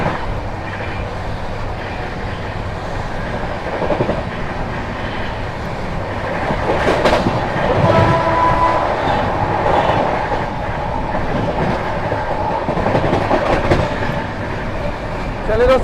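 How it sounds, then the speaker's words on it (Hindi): The Chandigarh Prayagraj Sangam Unchahar Express rumbles past loudly and continuously on Indian rails, with clickety-clack wheel beats and a brief faint horn tone midway. "चंडीगढ़ प्रयागराज संगम ऊंचाहार एक्सप्रेस।"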